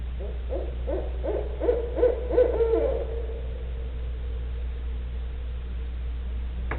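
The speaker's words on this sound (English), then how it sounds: "This is a real owl, and it is echoing." A real owl hoots outdoors in a rapid series of soft, low calls that echo and trail off into a fading reverberant tail, distant and alone over steady background hiss.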